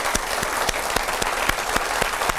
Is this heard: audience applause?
yes